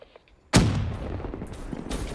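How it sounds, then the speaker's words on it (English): A single loud, close gunshot from Black Ops 3 cracks out after a quiet start, followed by a rumbling echo and fainter shots trailing behind it. "That kid's still shooting at me"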